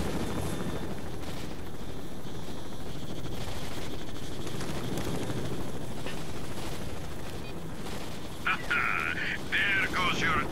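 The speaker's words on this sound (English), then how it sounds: "The military chopper is coming to blow you." Military helicopter in S.T.A.L.K.E.R.: Shadow of Chernobyl near Pripyat, a steady throbbing rotor drone with scattered gunfire throughout, loud and continuous, while someone talks over it.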